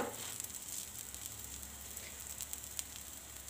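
A stuffed flatbread, flipped in an oiled pan, sizzles steadily and quietly, a soft continuous crackle with faint pops and no voices.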